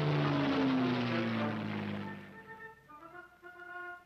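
Propeller-driven military aircraft of the Ethiopian armed force droning loudly and then fading away, followed by faint sustained tones.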